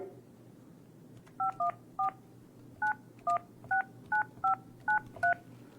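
A series of about ten short phone keypad tones, dialed in an uneven rhythm over faint background hum.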